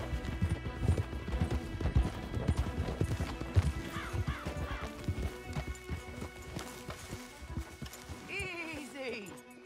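Hooves clip-clop in quick uneven bursts in Red Dead Redemption 2, close and fairly loud at first, then thinning out, with brief horse whinnies near the middle and end under intermittent talking.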